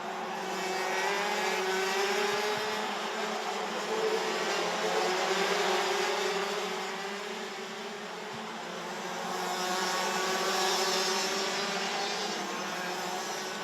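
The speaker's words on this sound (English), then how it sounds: "Tom Bracken got through at one of the sweet overtaking spots he seems to favour around the circuit here at Karting Genk" DD2 shifter karts circling the Karting Genk circuit, a constant blend of buzzing two-stroke engines at mid distance, rising and fading gently as they pass, with no voices over it.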